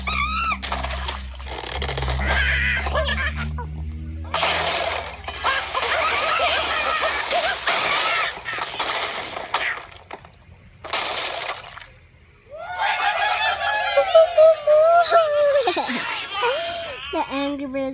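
Cartoonish squawks, chatter and crashing effects from Angry Birds characters in the iPad game, coming in loud bursts separated by short gaps, with a long squealing, warbling call toward the end.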